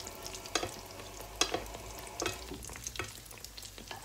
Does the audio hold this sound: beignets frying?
yes